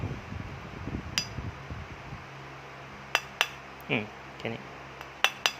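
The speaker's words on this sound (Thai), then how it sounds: "ใช้ดอกริเวตเนี่ยนะครับ จิ้มตรงนี้ปุ๊บแล้วก็ตอก" A rivet punch is tapped with a hammer while disassembling a CZ 75 Compact pistol, giving a handful of sharp, close metallic clicks spaced irregularly, a couple in quick pairs, with a man briefly murmuring.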